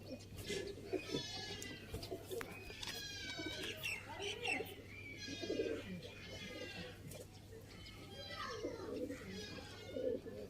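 Teddy pigeons cooing in repeated soft, throaty phrases at close range, with a low steady hum underneath and faint background voices.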